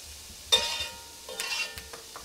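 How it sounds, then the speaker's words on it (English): Onions scooped into hot oil and stirred for a marinara sauce: a sudden burst of sizzling as they hit the pan, then a second stirring flurry with scraping, fading into soft frying. "Now that the oil is hot, scoop your onions right in there. Give them a little mix."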